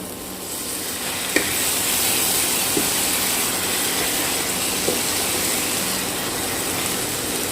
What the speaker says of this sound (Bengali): এবার আমি এর মধ্যে একটু দিয়ে দেব মশলা ধোয়া জল।